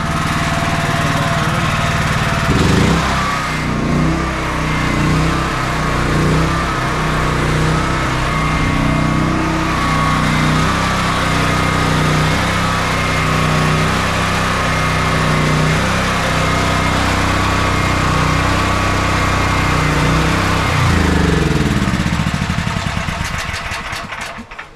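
A home generator housed in a metal shed runs at full power, a loud, steady engine drone with a constant low hum and mechanical rumble that holds evenly before cutting off near the end.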